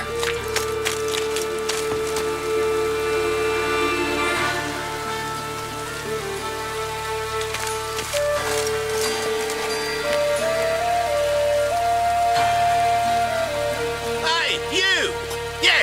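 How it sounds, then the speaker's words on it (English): Rain falls steadily in The Witcher 3: Wild Hunt, a soft constant patter beneath character dialogue and game music throughout. "It's raining."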